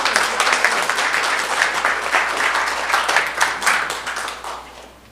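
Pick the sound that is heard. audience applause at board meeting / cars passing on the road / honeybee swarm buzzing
audience applause at board meeting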